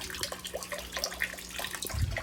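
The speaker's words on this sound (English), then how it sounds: "kind of like a drip acclimation system." Water trickles and drips steadily from a fast drip acclimation line feeding a bucket for a new angelfish, a soft continuous splashing with small irregular drops close by.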